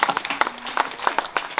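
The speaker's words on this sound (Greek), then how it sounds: "Και ένα μεγάλο χειροκρότημα στον Αχιλλέα." Audience at a book presentation in Nea Smyrni claps for a man named Achilleas, a short burst of individual hand claps, fairly close, irregular and sparse rather than a full ovation.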